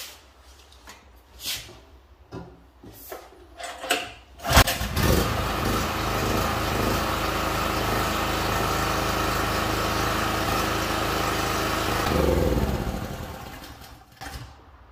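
A Biltema electric generator's small engine starts after several short cranking pulls, catches with a burst and settles into a loud, steady running drone for several seconds before dropping in pitch near the end.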